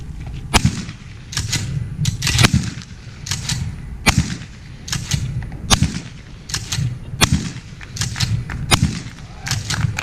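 A shotgun firing at improvised thrown targets during an army demonstration, about a dozen sharp loud blasts spaced irregularly, each followed by a brief echo, over low outdoor background noise.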